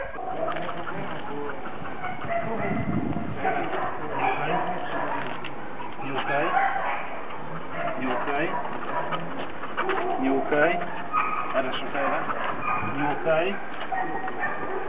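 Dogs bark in a customs service kennel housing Belgian shepherds, cocker spaniels and a Labrador, their barks mixed into a dense, steady din with pigeons cooing nearby and people talking throughout.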